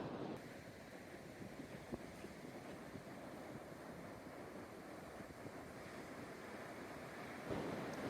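Ocean surf rolling onto Strands Beach in Dana Point, where waves reach 8 to 10 feet, forms a steady, continuous wash of breaking water with wind buffeting the microphone, swelling slightly louder near the end.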